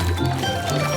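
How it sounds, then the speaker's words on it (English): Cartoon fruit splashes into a pool of warm water: a short, loud liquid splash and slosh, with watery gurgling continuing to the end. "Hop Hop, throw the fruit into the water."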